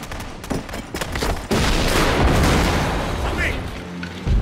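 A grenade blast and bursts of gunfire fill a combat scene, loud and close, with sharp pops at first and then a sustained roaring rumble.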